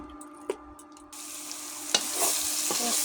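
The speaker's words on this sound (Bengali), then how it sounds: "মশলাটি আমি আবারও নেড়ে দেবো।" Masala for broiler chicken curry stirred and fried in oil in a pan: close scraping stirs, then a steady sizzle that grows louder, with no talking.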